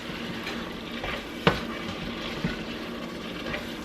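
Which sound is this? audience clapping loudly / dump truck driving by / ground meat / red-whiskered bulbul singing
ground meat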